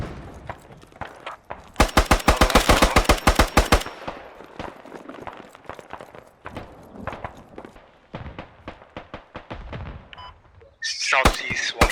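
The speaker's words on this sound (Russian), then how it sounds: "Мене криють пулемет." Machine gun fire in a first-person war video game: a sustained rapid burst of close, loud shots, followed by scattered shorter bursts and single reports in the combat.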